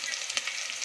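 Onion, garlic and tomato sizzle steadily in hot oil while being stirred, a dense continuous frying hiss with one brief louder scrape of the spoon near the middle.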